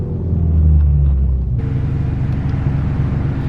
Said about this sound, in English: this is how we make pops on a Mustang Ecoboost. So you downshift it, keep it into first gear, and you go high on RPMs